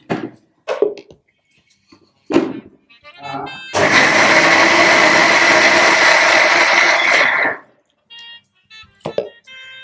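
A mixer grinder blends boiled apples into pulp for apple halwa, a loud, steady whirring roar lasting about four seconds, with short bursts of speech before and after.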